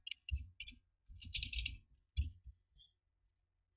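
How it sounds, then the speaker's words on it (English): Computer keyboard keys tapped in quick bursts while a password is typed, with short pauses between clusters of close, crisp clicks. "We'll type in a password"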